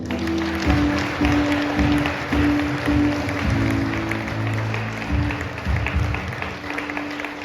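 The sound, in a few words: congregation applauding and acclaiming the Lord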